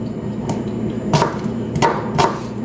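Close, sharp knocks of a chopper hitting onions for a chicken curry, about four hits in quick, slightly uneven succession, with no voices.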